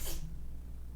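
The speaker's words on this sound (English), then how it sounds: "Sorry about the sneeze, that's my cat." A pet cat sneezes once, a short sharp burst close by, then quiet room tone with a low hum.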